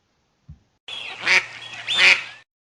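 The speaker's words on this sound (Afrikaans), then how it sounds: "Op 'n plaas kry jy ook eende en die geluid wat 'n eend maak is snater." A farm duck gives two short, nasal quacks close by, preceded by a faint low thump, in otherwise quiet surroundings.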